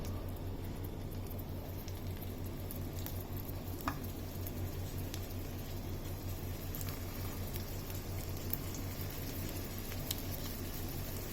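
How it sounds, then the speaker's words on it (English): Stuffed onions sizzle in a pan of hot oil, a soft and continuous crackling patter with a low steady hum beneath, faint and even throughout with no speech. "The oil is hot. Now I'm going to arrange these stuffed onions"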